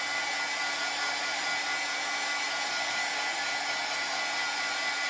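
A hair dryer blows steadily on glittery double-sided craft pieces, a continuous, fairly loud airy whir that holds an even level throughout with no talking.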